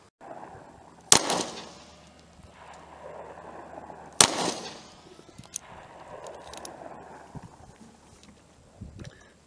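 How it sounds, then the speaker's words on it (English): A SCCY CPX-2 pistol fires two sharp, loud shots about three seconds apart, with mechanical clatter and outdoor background noise between and after them. "I'm just going to keep shooting and see if this clip has any issues."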